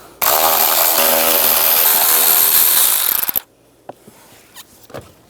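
A power driver whines loudly and continuously for about three seconds while backing out screws with a 5.5 mm socket from an HVAC blower motor in a 2005-15 Nissan Xterra, then stops, followed by a few faint clicks and handling sounds.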